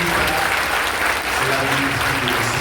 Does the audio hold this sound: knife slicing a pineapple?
no